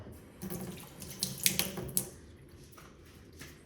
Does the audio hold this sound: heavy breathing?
no